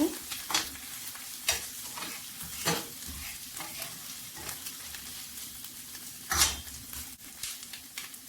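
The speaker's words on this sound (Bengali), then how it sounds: "দুই তিন মিনিট নেড়ে ছেড়ে ভালো করে বেজে নেব" Chickpeas being stirred and fried in a pan with ginger-garlic paste, a steady sizzle broken by scraping spoon strokes at irregular intervals, close and moderately loud with no talking.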